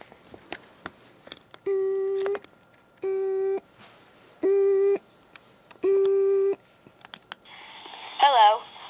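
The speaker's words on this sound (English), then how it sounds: "Now I'll call the number for Verizon Fios." A telephone call to Verizon Fios: a few dialing clicks, then four evenly spaced, steady ringing tones of about two seconds each, followed by a brief warbling tone as the line connects.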